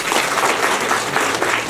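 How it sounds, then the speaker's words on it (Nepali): Applause at a Nepali Christian wedding ceremony in a church, a loud, steady burst of many hands clapping together close by, with no voices standing out. "ताली।"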